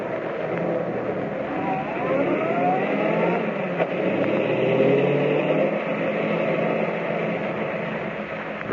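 A car drives along in an old radio drama, a steady mid-pitched engine drone with some shifting pitch, continuous and fairly loud with no talk.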